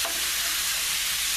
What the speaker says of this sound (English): it'll maintain this sizzling